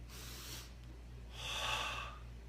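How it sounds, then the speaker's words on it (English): Slow breaths during meditation: a soft airy inhale, a pause, then a longer, fuller exhale, close and quiet with no talking. "You do the same breathing technique."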